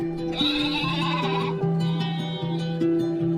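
A small lamb bleats in a pastoral children's story scene, a few wavering bleats rising over steady background music with no talking.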